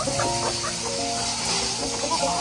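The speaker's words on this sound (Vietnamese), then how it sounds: "Con gà đi lên cái đồi ở phía sau đó cô chú, nó đi nó kiếm ăn." Chickens cluck and call in a few short bursts over a steady hiss of outdoor background noise, near and moderately loud on a rural hillside.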